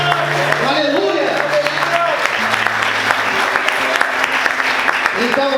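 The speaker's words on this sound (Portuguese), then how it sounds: "Você pode aplaudir ao Senhor por isso." Church congregation applauding, a steady loud clapping wash with voices and sustained sung or held tones running through it, some cheering over the top.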